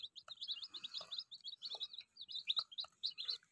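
Desi Aseel chicken chicks give a quick, steady series of high, thin cheeps, close and fairly faint, with light rustling underneath.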